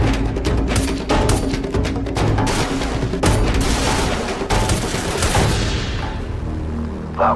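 Gunfire rattles in the shooter game S.T.A.L.K.E.R. Lost Alpha: loud, dense bursts of rapid shots and sharp bangs pile up continuously, then thin out toward the end.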